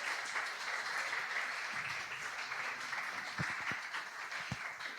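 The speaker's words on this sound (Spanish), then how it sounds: "Así que nuevamente un fuerte aplauso para Leonel Monterrosa" Sustained applause from a conference audience at an anniversary event of a university 3D lab in El Salvador, a steady dense clatter of many hands filling the room for the whole stretch, with a few sharper louder claps near the end.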